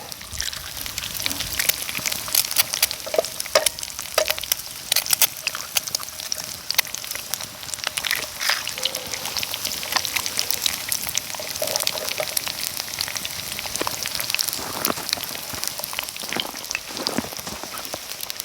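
Eggs fry in a pan outdoors on a cold, snowy day, giving a steady close crackling sizzle that runs without a break, with scattered louder pops.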